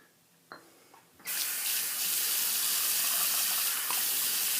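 Hot water runs steadily from a tap to warm shaving razors, a broad constant gush that starts abruptly after a couple of small clicks and continues loud and close to the end.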